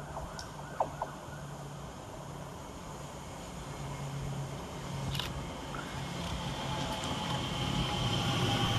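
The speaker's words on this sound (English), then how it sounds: "1P31 from Oxford to London Paddington and the 1548 TfL Rail Elizabeth Line service from Heathrow Terminal 4 to Abbey Wood" Trains passing at Hanwell station, an Oxford to London Paddington service and an Elizabeth Line train from Heathrow, a faint, distant rumble building slowly, with a low hum and a couple of brief sharp clicks.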